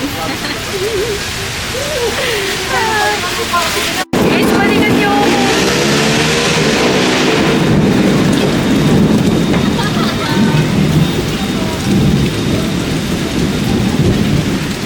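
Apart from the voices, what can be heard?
rain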